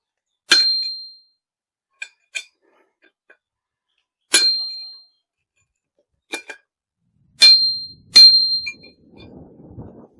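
Sharp metallic clangs from hammering out a metal bearing race ring out one at a time at irregular intervals, each strike bright and briefly ringing, with faint rustling near the end.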